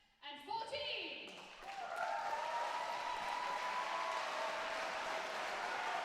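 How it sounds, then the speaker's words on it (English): A crowd breaks into a big round of applause for the Swordfish 2014 winners and medalists, the clapping rising after a brief pause and holding steady and loud, with faint voices mixed in. "For a big round of applause for the winners and medalists of Swordfish"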